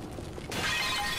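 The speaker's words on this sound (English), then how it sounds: "I guess my parents don't care that, you know, everything's shattering" China breaking in the video game The Cave: a sudden bright shattering burst of porcelain that rings on briefly after the impact, loud and close, with no talk over it.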